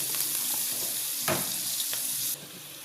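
Garlic and chili sizzle in hot butter, a steady close frying hiss with a couple of brief stirring scrapes partway through and no talking.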